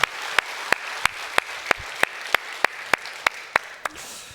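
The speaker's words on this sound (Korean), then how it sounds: "하나님께 영광의 박수 올려드리겠습니다" At a Sunday worship service, a congregation offers applause to God. A single sharp clap sounds near, then repeats at an even, steady beat about three times a second over a faint wash of background noise.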